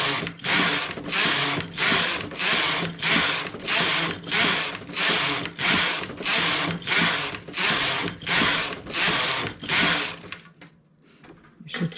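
A domestic knitting machine works a pocket length, its carriage sliding back and forth in a regular rhythm of about a dozen close, loud rasping passes before stopping near the end.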